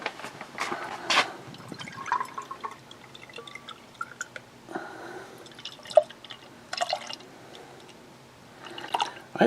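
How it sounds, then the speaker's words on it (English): Warrior Brewing Patriot, a juicy hazy IPA, poured aggressively from a can into a glass: uneven splashes, fizzing and dripping bursts, fairly quiet and close, with no talk. "that was a fairly aggressive pour"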